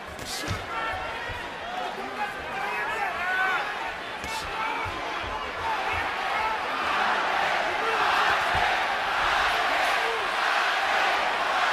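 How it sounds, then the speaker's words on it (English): A boxing arena crowd roars and cheers steadily throughout a bout between Timothy Bradley and Juan Manuel Marquez, a dense, far-spread wash of voices with a few sharp shouts, swelling louder toward the end beneath commentary. "Crowd trying to lift Juan Manuel Marquez to another epic performance in what has been an epic career"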